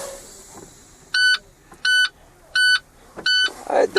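Low air pressure warning buzzer in a truck cab, sounding four short evenly spaced beeps, loud and close over a quiet cab background.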